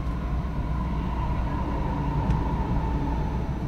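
A MAX Shinkansen train pulls in to stop at Omiya, heard from inside as a steady low rumble with a thin sustained whine above it. The noise is continuous and fairly loud, with no voices.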